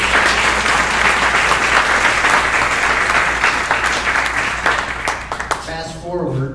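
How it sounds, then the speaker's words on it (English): Dense, loud audience applause fills the space continuously, tapering near the end as a voice begins talking. "Can we have another round of applause for these two?"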